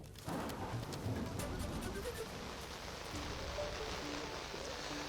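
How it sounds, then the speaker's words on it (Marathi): Heavy rain falls steadily during a downpour near Nashik, a faint, dense wash of drops that carries on unbroken and far off, with no voices. "रात्रीपासून संततधार ही सुरू आहे, मात्र थोड्या वेळापूर्वी जोराचा वारा देखील वाहू लागलेला आहे आणि त्याचबरोबर पावसाचा जोरही वाढतो आहे"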